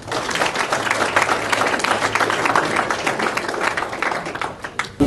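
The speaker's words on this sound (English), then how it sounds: "Let's have a big round of applause for Anthony Sessions." Audience applause at a Fight World press conference for Anthony Sessions, dense steady clapping from a crowd that holds at full strength throughout.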